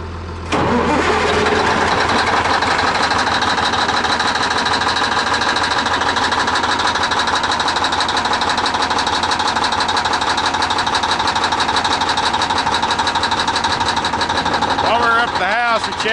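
Heavy 24-volt diesel engine on an M816 wrecker truck cranking in the cold, then catching and running at a steady loud idle for most of the stretch, with a brief burst of other noise near the end.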